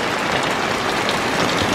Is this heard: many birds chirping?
no